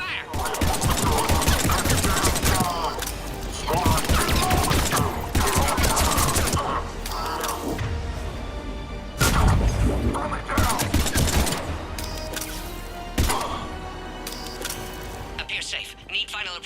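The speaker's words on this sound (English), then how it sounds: "Under heavy attack. Taking fire." Bursts of rapid gunfire and fusillades during a heavy attack in Mass Effect 3, loud and close, broken by short pauses, with voices talking over the shooting.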